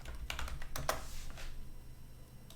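Keys clatter on a computer keyboard during game-development work in Blender and Unreal Engine, a quick burst of several close taps followed by softer scattered keystrokes, with no talking.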